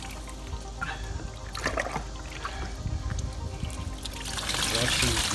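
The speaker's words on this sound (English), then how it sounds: "Just like to wet her up real, real good." Running water pouring over a dog being wetted down for a grooming bath, a continuous splashing trickle that swells louder toward the end, with a person speaking over it.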